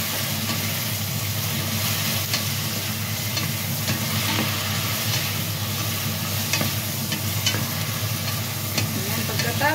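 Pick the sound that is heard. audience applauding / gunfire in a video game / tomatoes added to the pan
tomatoes added to the pan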